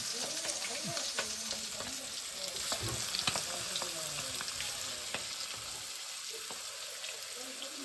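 Prawns frying in hot oil give a dense, steady sizzle and crackle with scattered pops, heard up close with faint voices in the background.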